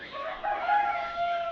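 A rooster crows on a poultry farm, one drawn-out call at moderate distance over faint background noise.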